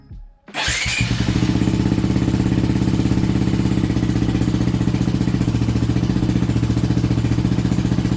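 A modded motorcycle engine starts abruptly and settles into a steady, loud idle with a fast rhythmic thrum that holds unchanged for several seconds, close up and without talk.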